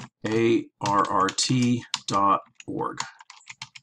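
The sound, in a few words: typing on a computer keyboard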